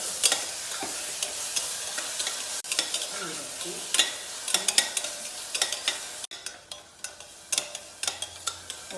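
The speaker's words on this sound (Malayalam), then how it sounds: "അപ്പം അതിനുശേഷം നമുക്ക് ഈ തക്കാളി, ഒരു പച്ചമുളക് ഉണ്ടല്ലോ, രണ്ടാക്കിയില്ല, അത് ഇടുക." Tomato and a whole green chili frying with browned onions for a potato paneer curry, with a steady close sizzle and repeated spatula scrapes and clicks against the pan, growing more rhythmic toward the end, no talking.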